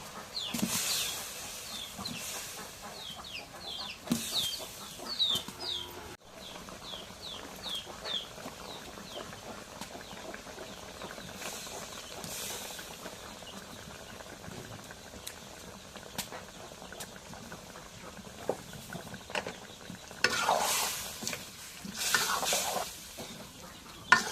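Potatoes frying in a pan with a fish head dish, a soft ongoing sizzle broken by repeated scraping stirs and clatters, some louder near the end, with no talking.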